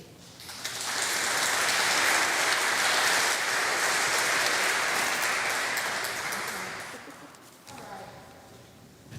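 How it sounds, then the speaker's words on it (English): Applause from an audience at a Holy Name of Jesus Church event, rising quickly into a dense, sustained burst of clapping that holds for several seconds before thinning out and fading. "let's give another round of applause for our alumni"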